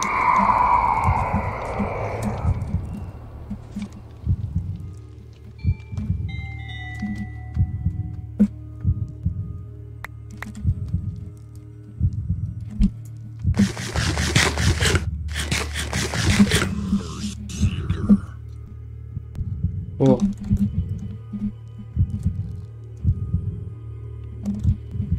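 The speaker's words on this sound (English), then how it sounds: "I feel like if the heartbeat gets any higher, I need to leave." Steady thumping heartbeat from the Minecraft Decked Out dungeon game, a low regular pulse running throughout at a fast pace, with a brief burst of louder scraping and clatter partway through.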